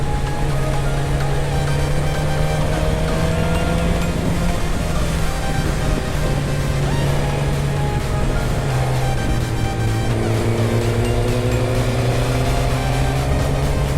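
Car lapping a race track in fourth gear at a trackday, its engine holding a loud sustained drone whose pitch slides gradually up and down with speed, close and continuous, under heavy wind noise.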